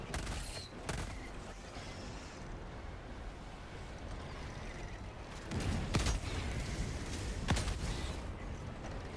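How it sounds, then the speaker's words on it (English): Orbital barrage shells from Helldivers slam down in a game, heard as a dense roar of rumbling impacts with sharp booming blasts near six and seven and a half seconds, loud and continuous. "Orbital barrage incoming."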